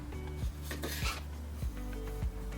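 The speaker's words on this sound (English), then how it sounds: "now make that next cut following the shape of the melon" A knife cuts the skin off a honeydew melon in four evenly spaced scraping strokes, close and fairly quiet, with faint rasping between them and no talking.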